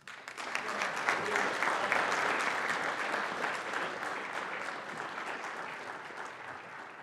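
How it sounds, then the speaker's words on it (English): Sustained applause from an audience at a 2023 Army ROTC commissioning ceremony honoring newly sworn second lieutenants, swelling quickly and holding steady before tapering slightly, with dense clapping throughout. "Please give them a round of applause."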